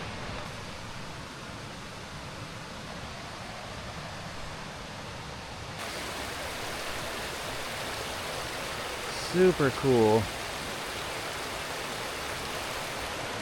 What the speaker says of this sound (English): I hear a waterfall this way.